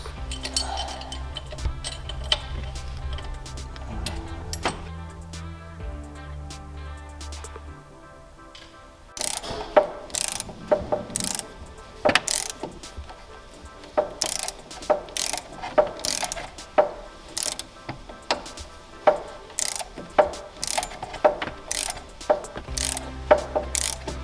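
A ratchet clicks away on the puller bolts while a harmonic balancer is pulled off a Fox Body Mustang. Low mechanical rumble comes first, then close, loud, sharp ratchet clicks repeat in uneven bursts with no talking.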